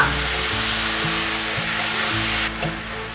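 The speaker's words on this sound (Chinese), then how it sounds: "白萝卜稍微炒软后，放入番茄， 再继续翻炒。" White radish and tomato are stir-fried in a pan for a vegan home-style dish, a loud, steady sizzle broken by regular scraping strokes of the spatula, with no speech.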